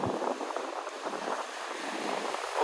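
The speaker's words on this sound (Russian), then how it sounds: "дует сильный ветер" Strong wind buffeting the microphone with a low roar, Black Sea surf washing underneath at Sochi in January, no voices.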